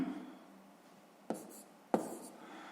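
A pen scratches numbers onto paper while a sixth-grade math sum is worked out. The writing is quiet and close, with two sharper taps of the pen near the end.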